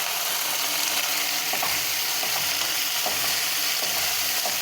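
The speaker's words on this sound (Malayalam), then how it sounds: "അതും കൂടി ഒന്ന് ചേർത്ത് കൊടുത്ത് നന്നായി ഒന്ന് ഇളക്കാം" Chopped tomato stirred into Maggi noodles frying in a pan, with a constant loud sizzle and occasional soft stirring knocks, close up with no talking.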